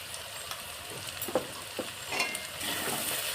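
A paste of ground cumin, coriander and black pepper sizzles in a pan while a spoon stirs it, giving a soft continuous fry broken by several sharp scraping strokes against the pan, with no voices.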